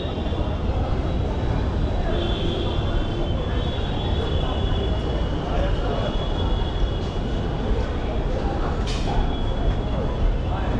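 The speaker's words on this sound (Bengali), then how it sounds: "এটা হলো শিয়ালদা মেট্রো" Steady low rumble and hum of a metro train inside Sealdah metro station in Kolkata, continuous and loud, with a faint high whine and scattered voices in the background.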